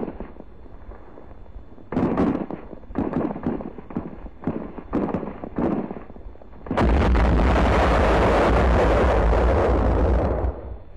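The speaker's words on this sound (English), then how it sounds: "our troops are brought under small arms and mortar fire" Wartime beach landing under moderate opposition during the 1945 liberation of Cebu City, with bursts of small arms fire and mortar blasts, loud repeated cracks and thuds building into a sustained roar of heavy fire.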